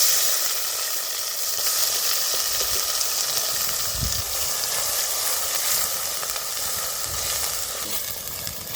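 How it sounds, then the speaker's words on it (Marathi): Stone-ground Kolhapuri onion-garlic masala paste fries in hot oil, giving a steady close sizzle and hiss, with a few soft stirring scrapes and a low thump near the middle. "तेलात असा व्यवस्थित मसाला का नाही अंगचं तेल सुटेपर्यंत मसाला तेलात भाजायचा."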